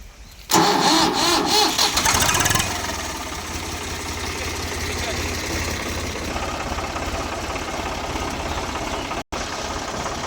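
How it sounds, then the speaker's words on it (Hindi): A tractor engine cranks over and fires up loudly, then drops into a steady, rumbling idle that runs on alone without pause. "तो अभी हम ट्रैक्टर स्टार्ट करके देखते हैं।"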